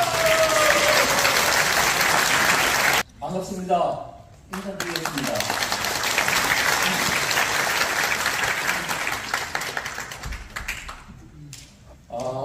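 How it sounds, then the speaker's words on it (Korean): An indoor audience gives loud, sustained applause to welcome a lecturer, which breaks off as a man briefly greets them and then swells again. "다 같이 큰 박수로 맞아주시기 바랍니다."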